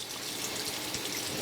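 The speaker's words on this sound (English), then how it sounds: "I'll use a cup of tap water, and I usually just get it warm" Warm tap water runs steadily from a faucet in an RV kitchen, a close, even hiss of flowing water with no voices.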